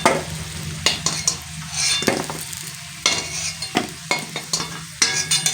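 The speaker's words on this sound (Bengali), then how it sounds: "এবার কিন্তু আমি আলুগুলো তুলে নিচ্ছি" Fried potatoes lifted out of hot mustard oil with a metal spatula, a steady sizzle of frying broken by repeated scraping and clinking strokes against the pan, close up.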